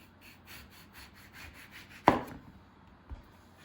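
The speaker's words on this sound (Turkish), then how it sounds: "Şimdi önce portakalımı bu şekilde keseceğim" A knife slices through an orange on a cutting surface, with a soft rhythmic scraping followed by one sharp, close cut and a fainter tap afterward.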